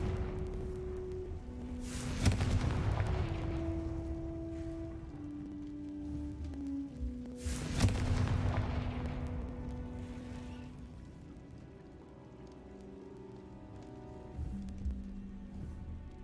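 Booming blast spells go off in a Hogwarts magic video game, two heavy explosions a few seconds apart, each with a rumbling crackling tail over a low musical score.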